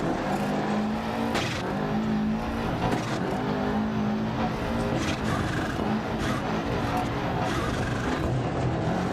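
Rally car engine in Dirt Rally 2.0, on an Argentina stage, running hard and continuously with a dense, loud droning roar that shifts in pitch as it revs through gears, no pauses throughout.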